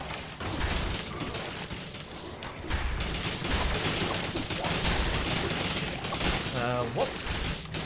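Small cannon turrets fire in the video game Dead Cells, a busy stretch of repeated blasts and mechanical clatter amid game effects, with a brief tonal chirp near the end.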